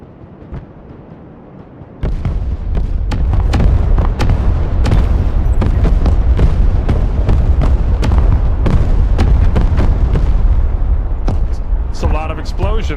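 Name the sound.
explosions in a video game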